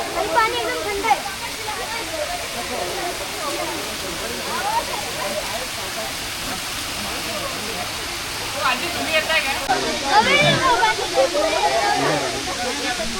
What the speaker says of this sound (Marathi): हे बघा इथं धबधबा आहे पूर्ण.